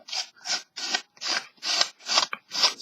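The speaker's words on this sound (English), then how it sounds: "you can use a little piece of sandpaper to just kind of go over the edges to smooth it out" A small piece of sandpaper rasping over the cut edges of paper in seven steady, even back-and-forth strokes, close and clear with no talking.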